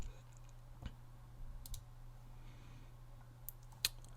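A few faint, isolated computer mouse clicks in a quiet room over a low electrical hum, spaced irregularly with one sharper click near the end.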